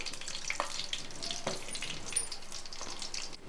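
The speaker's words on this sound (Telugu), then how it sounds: "ఇదిగోండి కరివేపాకు కూడా వేసుకున్నాను" Curry leaves hit hot oil in a multi cooker, giving a steady close sizzle and crackle with a few sharp pops, continuing throughout with no talk.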